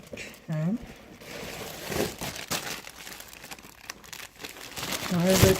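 Paper being crumpled by hand, giving a run of close, scratchy crinkling and rustling bursts across several seconds, with a person speaking briefly over it near the start and again at the end.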